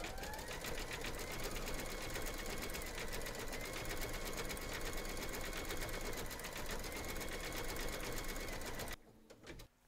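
An embroidery machine stitches rosy cheeks in light pink thread on an in-the-hoop teddy and unicorn bag. It runs as a steady, fast mechanical chatter close by for about nine seconds, then stops abruptly and leaves quieter handling noise.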